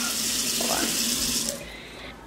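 A kitchen tap runs water to dissolve medication, a steady splashing rush that stops abruptly near the end, followed by a brief clunk.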